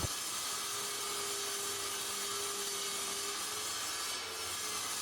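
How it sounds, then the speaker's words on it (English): A Ryobi table saw cuts a scrap of 3/4 inch plywood while running off an Ecoflow LFP battery power station, giving a steady, continuous whir of blade and wood for the full stretch at moderate loudness, with no talking. "we'll see if the Ecoflow can run the Ryobi table saw"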